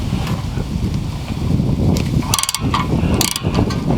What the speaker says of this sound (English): You can use an impact if you want, or you can use a regular ratchet.